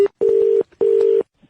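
Two short electronic beeps sound on a dropped phone call with a network problem, each a steady tone lasting under half a second, separated by a brief gap, clear and alone.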